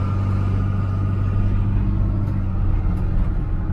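An old Dodge pickup truck drives along with a steady, loud low engine rumble and drone that holds throughout; distinct gear changes are hard to pick out.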